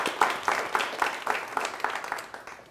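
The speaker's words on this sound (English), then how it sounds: "I wanted to give them a round of applause and thank them for their hard work" A small audience at a book talk gives a brief round of applause, with a few close, distinct claps in an uneven rhythm over a softer patter that tapers off.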